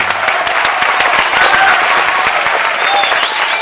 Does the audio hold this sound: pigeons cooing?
no